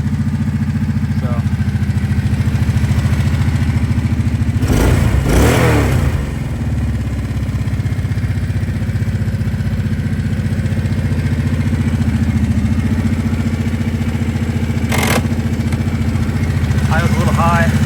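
Kawasaki Prairie 700 ATV engine idling steadily up close, loud and continuous, with a couple of brief revs breaking through the drone; a person talks over it.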